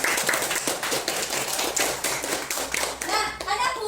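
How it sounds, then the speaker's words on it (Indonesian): Classroom clapping for a student during a mathematics lesson, a lively cluster of children's hands beating in loose rhythmic bursts, fairly close and loud, with a few young voices mixed in. "Tepuk tangan untuk Tabita kami."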